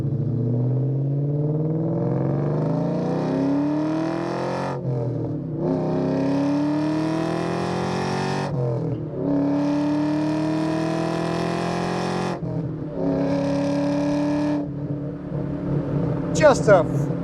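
A 2003 Ford SVT Cobra's supercharged 4.6 V8 revs up through several gear pulls, the Borla exhaust rising in pitch each time before dropping at shifts, loud and close.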